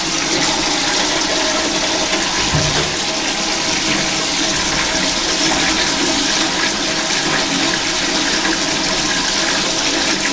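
A toilet flushes without stopping, a loud, steady rush and gurgle of water that fills the whole stretch with little change, nearby and alone with no voices.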